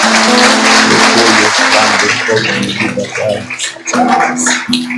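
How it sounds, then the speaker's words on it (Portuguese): Loud, continuous clapping from a large crowd at a church worship service, dense and sustained with a steady musical hum underneath. "Aplauda bem forte o Senhor"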